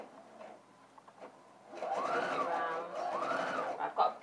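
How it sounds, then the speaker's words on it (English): A sewing machine stitches an armhole facing, its motor whirring in two loud, close runs after a few quiet clicks, with a short pause between the bursts. "start sewing a couple of stitches forward, and then a couple of stitches like this"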